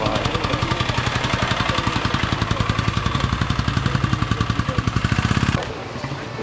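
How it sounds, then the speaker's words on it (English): An NSU motorcycle at a vintage motorbike rally in Bantry runs close by with a rapid, even engine beat, passing loudly before the note drops off abruptly near the end. "Here comes the NSU again. Whirring away."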